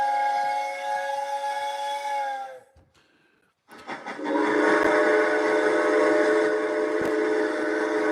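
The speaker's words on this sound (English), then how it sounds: "Ladies and gentlemen, this train is leaving the station right now." A loud, sustained steam-style train whistle sound effect for a train leaving a station, a long chord that cuts out briefly, then returns even louder and holds steady, with no talking.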